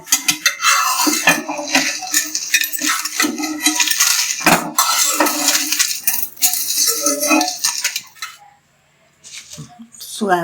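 Roasted chillies for chilli flakes being moved from a pan onto a plate, with close, busy metallic scraping and clinking of a spoon against cookware, ending in near silence and a few faint taps.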